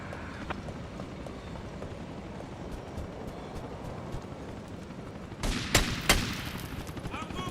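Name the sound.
gunfire in Grand Theft Auto: Vice City video game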